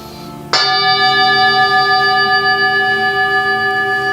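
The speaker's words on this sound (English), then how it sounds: "I'm going to invite the bell." Meditation bell struck once, a clear bright strike followed by a long, slowly fading ring with shimmering overtones in a quiet room.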